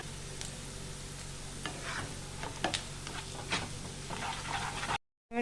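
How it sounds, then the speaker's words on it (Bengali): Onion and a little grated ginger fry in oil in a pan, a steady close sizzle broken by repeated scraping stirs of a spatula, ending in a brief silence with no talking. "এবার পেঁয়াজটা আমার ভাজা হয়ে গেছে"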